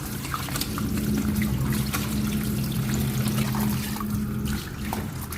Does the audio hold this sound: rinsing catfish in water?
yes